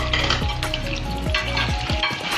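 Beef frying in a pan with freshly ground masala added, a loud, dense sizzle right up close, broken by the scrape and clank of stirring.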